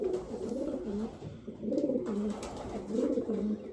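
Young pigeons, hatched in 2025 and bred from saddleback parents, coo nearby in three rolling phrases that rise and dip, with a short gap between each.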